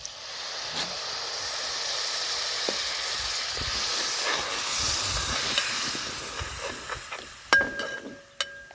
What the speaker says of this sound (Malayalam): നമുക്കിത് പുളി ഈ പുളിവെള്ളം ഒഴിച്ചു കൊടുക്കാം